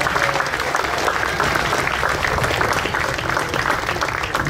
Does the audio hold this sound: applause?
yes